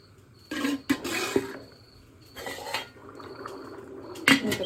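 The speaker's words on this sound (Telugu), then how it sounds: "నా దగ్గర స్టీమర్ లేదండి, అందుకే ఇడ్లీ పాత్రలో వేసుకొని" Metal clatter of momos being set into an idli vessel pressed into service as a steamer, with several bursts of clanking and scraping close by, separated by short quiet gaps.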